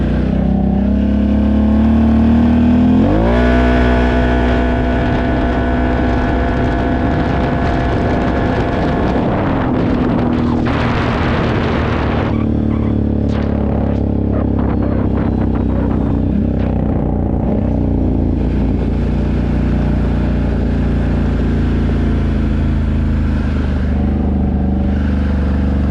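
A car in sport mode and high gear pulls hard at full throttle from about 15-20 mph, its engine note climbing loud and steady through a long sustained run with wind roar and no talking.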